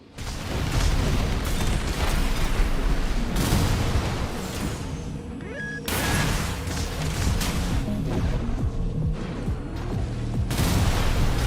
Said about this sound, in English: there's a longer delay in between the missiles firing